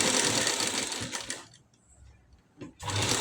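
A sewing machine stitches the neck of a collared blouse, its loud dense whirr running steadily at the start, pausing into near silence for about a second, then starting again up close.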